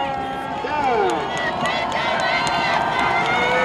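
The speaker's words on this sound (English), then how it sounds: "You can hear the crowd starting to get into it now." Crowd at a high school 4A football game between the Tonganoxie Chieftains and St. Thomas Aquinas Saints building into cheering ahead of a third down, a broad steady roar with a commentator talking over it.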